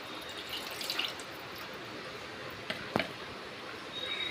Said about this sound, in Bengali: জল দিয়ে গঙ্গা জল দিয়ে দিচ্ছি